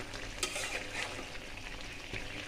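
Tripe cooks in a pot on a home stove, a low, even frying hiss with a few faint stirring scrapes, quiet and close, no voices.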